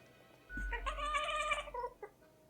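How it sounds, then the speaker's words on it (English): A cat lets out a single drawn-out, high-pitched caterwauling meow lasting about a second and a half, fairly close, followed by a short chirp. "The cat fires a sequence of high-pitched noises at you."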